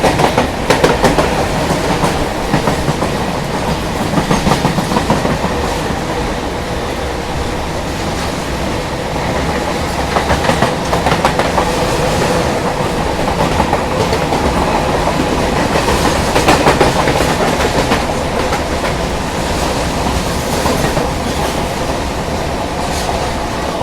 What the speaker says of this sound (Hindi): किसी ट्रेन से हमारी क्रॉसिंग हो रही है,